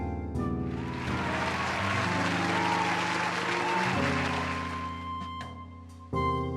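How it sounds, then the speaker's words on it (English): Pub patrons in The Letter cheer and clap together, a dense, loud burst of crowd applause over a steady tonal music bed, which breaks off briefly near the end before the music returns. "cheers and applause rise among the pub's patrons"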